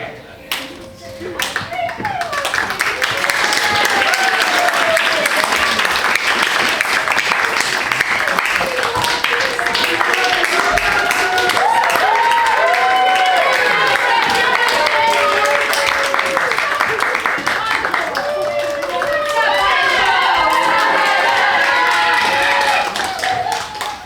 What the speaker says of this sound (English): Everyone hold on for applause now